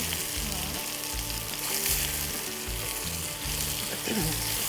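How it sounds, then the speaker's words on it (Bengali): Vegetables for Bengali fish shukto, seasoned with a pinch of turmeric, sizzle steadily in a pan while being stirred, with rhythmic scraping strokes over a continuous close frying hiss and no voices. "নাড়াচাড়া হবে ভালো করে কষাতে হবে"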